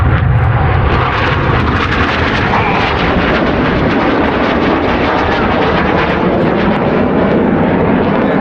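Red Arrows Hawk jets flying past during the display break, a loud dense roar of jet engines that fills the whole span and holds steady with little rise or fall, close and overwhelming.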